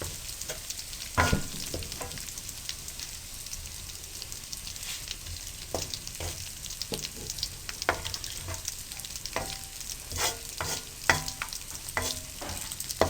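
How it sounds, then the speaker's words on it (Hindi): Cumin seeds fry in a pan with a quiet, steady sizzle broken by scattered sharp pops and crackles, and no talking. "चंद सेकंड के लिए आपने जीरा को पकाना है क्योंकि ज़ीरा बहुत जल्दी पक जाता है"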